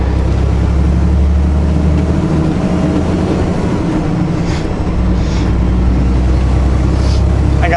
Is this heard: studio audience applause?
no